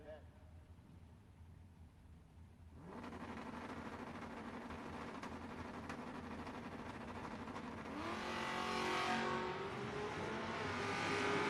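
A Camaro drag race car at a no-box 660 shootout launches and accelerates down the strip. Its engine roar rises sharply and stays loud and distant, then climbs in pitch as it pulls away, under the hum of the track.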